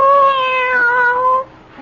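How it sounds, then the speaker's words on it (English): A single drawn-out cat meow rings out close and loud, a clear tonal cry sliding slightly downward for about a second and a half before cutting off, heard alone with no purring evident. "Why, you're purring,"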